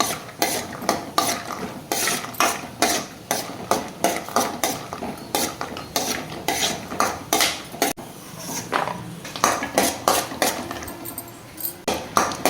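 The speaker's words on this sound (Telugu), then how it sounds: "కొబ్బరి కూడా నెయ్యిలో వేయించుతున్నానండి" Grated coconut frying in ghee is stirred hard in a metal pan, rhythmic spoon scrapes and clanks repeating about twice a second over a soft sizzle.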